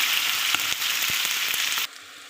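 Onions hitting hot oil with cumin and spices while a spicy meat curry is cooked, a steady close, loud sizzle with a few stirring clicks that stops abruptly near the end, leaving a faint hum.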